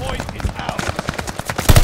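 Rapid bursts of gunfire in Call of Duty Vanguard ranked play, dense and crackling, with a louder volley near the end and faint voices underneath.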